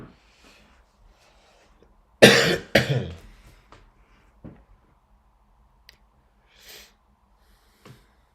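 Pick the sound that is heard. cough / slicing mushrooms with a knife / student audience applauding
cough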